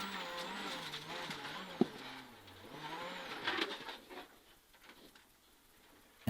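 A two-wheel drive rally car on a snowy stage revs and shifts through changing engine notes with brief tire noise, distant and fairly faint, fading toward the end.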